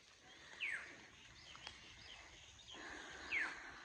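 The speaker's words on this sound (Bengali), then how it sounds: "চারিদিকে পাখির কলকলানি, কিচিরমিচির ডাক।" Birds chirp and twitter outdoors on a cold, foggy morning: two brief descending calls, one early and one late, rise over a steady, faint background hiss.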